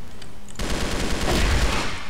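Rapid automatic gunfire from a Crossfire shooter match bursts in after a brief quiet moment, loud and dense, rattling continuously to the end.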